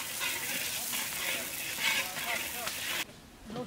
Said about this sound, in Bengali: হ্যাঁ তেল গরম হয়ে গেছে, পেঁয়াজটা দিয়ে দিলাম।